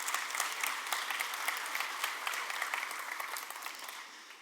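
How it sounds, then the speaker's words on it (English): Audience applause at a developer technology talk, dense steady clapping from a crowd lasting throughout and tapering slightly at the end, with no talking over it. "You all should applaud yourself."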